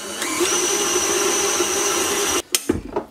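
A stand mixer runs steadily, kneading lemon brioche dough in its metal bowl with a loud, even motor whir, then cuts off abruptly and is followed by a few clunks and knocks.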